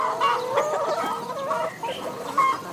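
Several hens cluck and murmur close together in overlapping, uneven calls, a busy flock chattering without pause.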